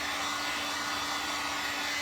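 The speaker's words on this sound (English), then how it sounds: "sometimes it's hard to get dry with the dryer because it's a thicker area" A hair dryer blows steadily to dry craft paper pasted onto a pumpkin, a loud continuous whooshing airflow with a faint motor hum running unbroken throughout, no voices.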